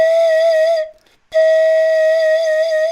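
A single sustained panflute note, clear and close, played with gentle vibrato, breaking off briefly before the same note resumes steadily.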